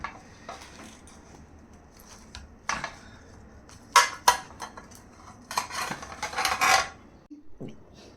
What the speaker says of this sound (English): I'm going to very carefully remove this from the banana leaf.